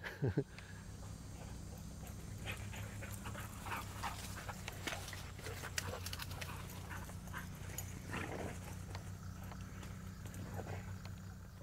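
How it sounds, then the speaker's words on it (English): Dogs pant and patter around close by on a bee farm homestead, with light footfalls and faint whimpers over a steady low hum. "Dogs running through here."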